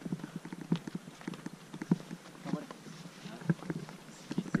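Horse hooves clip-clopping on a high-altitude mountain trail around 4500 m, a steady rhythmic series of close, hollow thuds with a soft ambient background.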